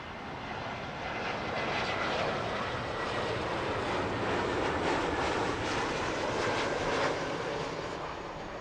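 An Austrian Airlines airliner arriving from Vienna roars steadily on approach to land at Heathrow, a loud, broad sustained engine rush that builds slightly and holds throughout without speech.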